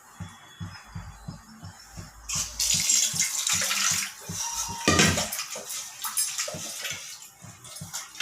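Water gushes and splashes into a pot, with running-water noise and a few metallic knocks from the cookware.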